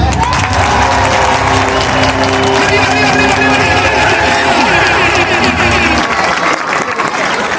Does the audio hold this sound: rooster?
no